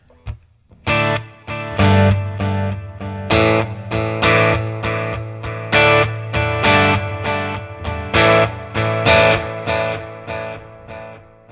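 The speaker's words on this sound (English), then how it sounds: "Now we also have a reverb effect" Electric guitar run through a Red Panda Context reverb pedal, a series of strummed, distorted chords with long reverb tails blending each hit into the next, loud and sustained throughout.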